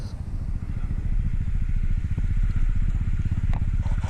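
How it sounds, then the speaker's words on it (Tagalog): A motorcycle is pushed along a trail toward Dissuor Lagoon in Echague, Isabela. Its engine runs with a steady, close, rhythmic putter throughout, along with faint clatter. "Nakaalalay ang aming mga motor."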